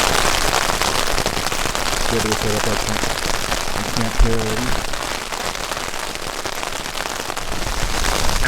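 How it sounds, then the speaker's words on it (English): Steady rain falling at a mountain campsite beside a pond, a dense, even hiss of drops on surfaces throughout, with a few people talking over it. "It's raining."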